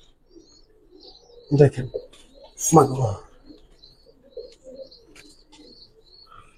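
Giribaz pigeons coo in two fuller bursts over light chirping, with someone talking nearby between the calls.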